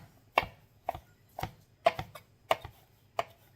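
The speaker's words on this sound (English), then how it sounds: "I'm just going to kind of cut it up so I don't have these long strands in my enchiladas" Knife chopping leftover Thanksgiving turkey on a cutting board for enchiladas: six sharp, evenly spaced thuds about half a second apart, close and distinct over a quiet room.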